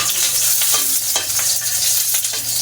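Garlic fries in hot oil in a pan while being stirred, giving a steady close sizzle broken by scraping utensil strokes throughout.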